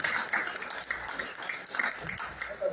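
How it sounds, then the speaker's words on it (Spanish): Applause from an audience at a Mexican rock music tribute event, moderate and steady with some scattered claps, lasting a few seconds. "Un aplauso."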